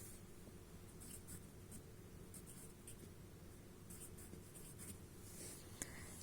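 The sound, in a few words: writing numbers by hand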